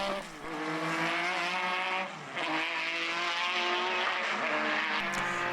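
Two Nissan V6 race cars at Mondello circuit howl nearby under hard acceleration, their engine notes climbing through the gears with a brief dip at a shift, loud and continuous.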